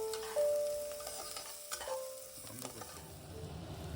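Onions sizzle steadily in a kadai for a dhaba-style tadka dal, with a soft frying hiss, a few stirring scrapes and a couple of brief tonal beeps, fairly quiet and close.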